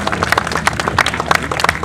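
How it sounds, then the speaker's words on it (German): Crowd applause at an American car convention in Dresden's Ostragehege: a dense, steady patter of many hands clapping throughout, with no talk over it. "gebt einen riesen Applaus dafür"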